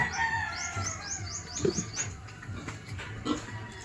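Chickens on a small farm, including a mother hen, cluck and peep nearby, with a quick run of high chirps early and a few soft clucks scattered after.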